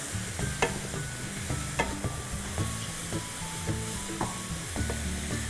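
Vegetables and purple cabbage stir-fried over a very high flame, with a steady close sizzle and repeated clattering scrapes and taps of the stirring utensil against the pan throughout.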